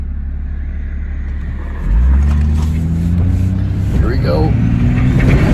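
A car accelerates hard on a test drive after a D&J valve cover install, its engine note jumping from a steady idle rumble into a loud, rising roar that climbs through the gears, with a short spoken remark from inside the cabin.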